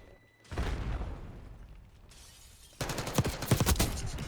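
Gunfire in Call of Duty Black Ops 6 during a beta multiplayer match: a loud opening shot with a decaying tail, then after a lull a dense burst of rapid automatic fire, close and alone.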